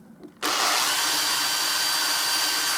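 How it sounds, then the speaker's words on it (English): A power drill bores into wood for cabinet furniture beside an existing hole, starting abruptly after a brief quiet moment, then a loud, steady high whine continuing without a break. "I'll try and drill exactly the same"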